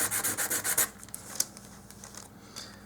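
Sandpaper rubbing on a wooden dollhouse miniature sled part: a rapid run of about seven rhythmic close strokes, then slower scattered scrapes and taps, no talk.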